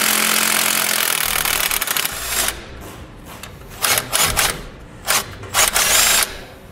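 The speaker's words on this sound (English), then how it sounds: "I'm using a 9/16 socket to pull those nuts off." Socket wrench or power tool pulling nuts off a Dexter electric brake assembly on a trailer, heard as loud bursts of mechanical whirring and rattling in short repeated spurts, alone without talk.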